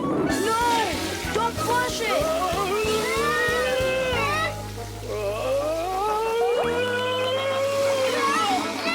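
An animated cartoon toilet flushes with splashing, sloshing water under loud music, while cartoon voices speak over it.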